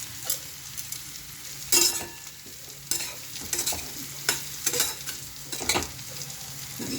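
Semolina fries in a pan, a soft constant sizzle punctuated by quick clusters of spatula scrapes and knocks against the metal, close-up and with no one speaking.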